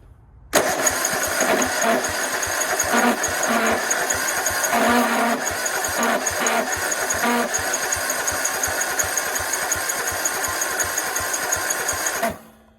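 A Cub Cadet RZT50 zero-turn mower engine, with the choke on and the brake set, cranks and catches, then runs loud and steady with a rough, pulsing idle before cutting off abruptly.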